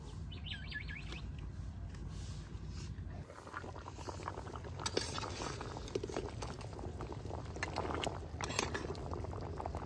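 Potatoes and eggs boiling in a pot of water, a steady close bubbling and churning that runs throughout, with faint bird chirps in the outdoor background.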